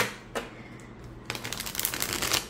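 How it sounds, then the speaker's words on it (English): A new, slightly stiff deck of thick tarot cards riffle shuffled close up: a short crisp flutter, then a longer rapid burst of cards slapping together, with no talking. "let's see how this deck shuffles. Yeah, it's still a little bit stiff, but it riffle shuffles well"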